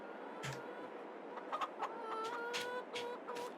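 Several hens clucking and murmuring around a pair of chicken coops on a farm in Farming Simulator 22, a steady soft chorus of close clucks with a few sharper calls, no voices.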